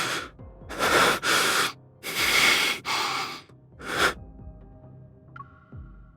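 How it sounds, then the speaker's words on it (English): Zane, an injured character in a video game, breathes in a laboured way: five or six loud, ragged breaths and gasps in uneven rhythm, close and alone, followed by a quieter stretch with a faint tone. "Zane's labored breathing shows how intense the pain is"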